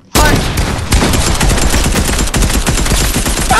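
Rapid automatic gunfire in Fortnite, a loud, dense stream of shots with no real pauses and a brief stutter partway through.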